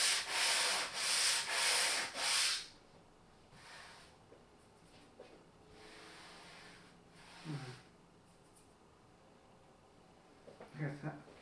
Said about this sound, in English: we're going to start the sanding process, and we're going to use 220 fine grit